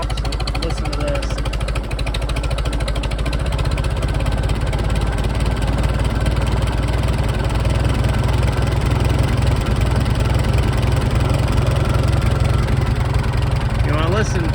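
A Farmall tractor engine idles with its timing slightly off, a loud, steady, throbbing chug with rapid regular firing pulses running unbroken throughout, heard up close.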